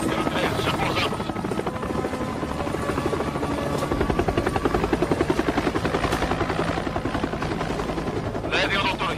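A military helicopter that has just landed, its rotor and turbine roaring steadily and loud throughout, with rhythmic blade chop, brief bursts resembling distant gunfire, and voices talking over it.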